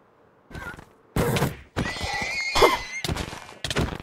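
A horse whinnies loudly several times in short bursts in a video game, with a high squealing neigh and some thumping in between.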